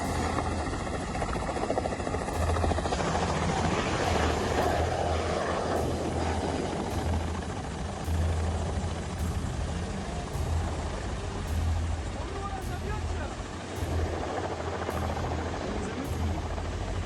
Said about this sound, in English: The helicopter can then be seen gaining elevation and losing it repeatedly.